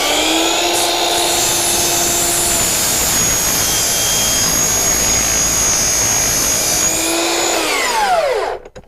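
A power tool cuts wood for a round farmhouse pub table, guided by a Milescraft circle guide; a loud, steady high whine runs unbroken for about eight seconds before winding down at the end.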